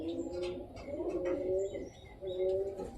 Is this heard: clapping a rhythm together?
no